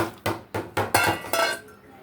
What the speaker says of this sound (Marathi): आता एका मिक्सरच्या भांड्यामध्ये आपल्याला शेंगदाणे घ्यायचे